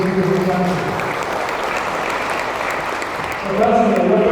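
Applause from an audience at an event held in Brunei, a steady wash of clapping in the middle, with voices talking at the start and again near the end.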